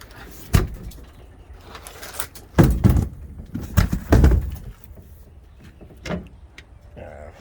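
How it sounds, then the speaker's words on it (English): Doors of a 1966 Pontiac Bonneville Superior Consort combination hearse-ambulance being worked, with several solid close-range thumps and clunks spaced a second or two apart, plus lighter latch clicks in between. "Let me close this door."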